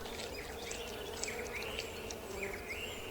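Bees buzz in an agitated swarm as a honey badger raids their hive, a dense continuous drone with individual insects whining past at shifting pitches, steady and moderately loud throughout.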